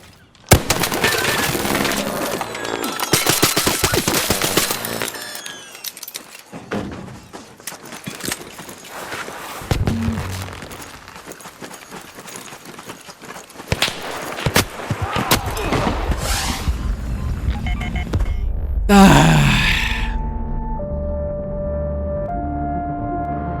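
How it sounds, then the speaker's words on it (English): Close-range gunshots in a solo-versus-trios shooter video game: sharp, scattered cracks and impacts come in uneven bursts over game ambience and mechanical clatter, with a tonal game sound near the end. "Here's some close by shots."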